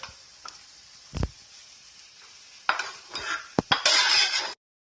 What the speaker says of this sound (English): we mix the potatoes and the onions with the egg